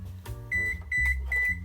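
Kitchen oven timer beeps in three steady high-pitched tones, each lasting about a quarter to half a second with short gaps, over a low background hum in a home kitchen.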